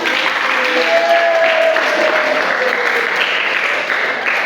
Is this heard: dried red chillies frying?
no